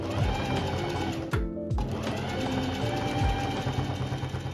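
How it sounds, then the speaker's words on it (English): Sewing machine stitching fabric for a Tsuno knot bag, a continuous fast mechanical whirring patter close by, with one brief pause midway. "Then just go ahead and sew along that line."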